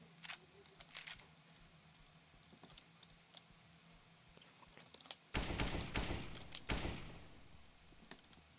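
Gunshots in CS:GO ring out as a few loud, sharp cracks after a stretch of quiet ambience with faint clicks and footsteps.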